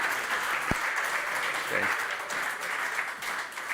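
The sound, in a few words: audience applause for panel participants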